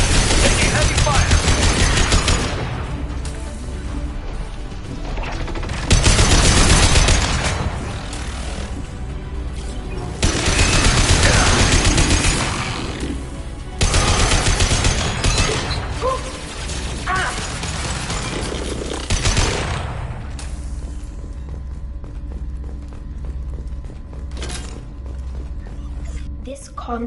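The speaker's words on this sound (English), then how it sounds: "Taking heavy fire!" Heavy gunfire in the game Mass Effect: loud, dense bursts of automatic fire and impacts that come in waves for most of the stretch and ease off toward the end.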